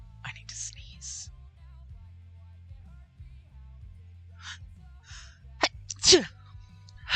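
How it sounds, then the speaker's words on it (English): A single person's sneeze, sharp and close, follows a quick gasping breath, standing out loudly against a quiet indoor background with faint breathy sounds before it. "I need to sneeze."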